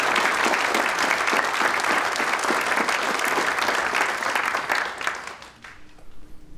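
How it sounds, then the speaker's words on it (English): A lecture audience applauds to welcome marine ecologist Dr. Jim Estes before his talk on sea otters and kelp forests. The dense, steady clapping from the crowd tapers off near the end. "let's please join me in giving a big round of applause"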